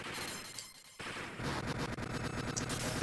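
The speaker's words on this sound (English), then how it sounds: "I love 16-bit arcade explosions." A 16-bit arcade explosion from the Operation Thunderbolt video game: a sudden loud crashing burst followed by rapid crackling, gunfire-like blasts that keep going at full loudness, with no talking.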